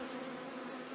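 Honeybees from a horizontal hive colony in spring in the Vysočina region drone in a steady, dense buzz, close and continuous without pauses and with no voices.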